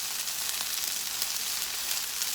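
Chicken for fajitas browning in a hot pan, a dense, even, close sizzle with a bright hiss and tiny pops, steady and uninterrupted, with no talking.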